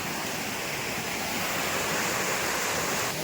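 Water pours steadily over an old dam in hilly country, a dense, continuous rushing roar that stays loud and even throughout, with no voices.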